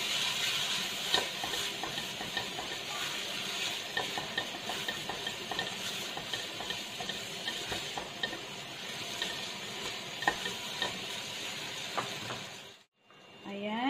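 Roasted pork and noodles are tossed and stirred in a sizzling pan, with a continuous fry hiss under repeated scraping and clinking strokes of the utensil, close and busy, ending in a brief drop before a sharp cut.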